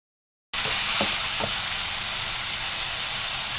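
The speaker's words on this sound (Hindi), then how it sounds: "अब आप उसी बचे हुए ऑयल में थोड़ा सा टमाटर को भी फ्राई कर लें इसमें।" Tomatoes fry in leftover oil for a chicken macaroni dish. After a brief silence, a loud, steady sizzle starts and holds, with a couple of soft stirring scrapes near the start.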